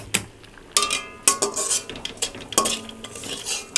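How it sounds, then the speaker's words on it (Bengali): A spoon scrapes and knocks in a pot as chicken is stirred into khichuri, giving intermittent metallic clinks and scrapes over a faint sizzle, close and fairly quiet. "চিকেন সব দেওয়া হয়ে গেছে, আমি ঘেঁটে দিচ্ছি ফ্রেন্ডস।"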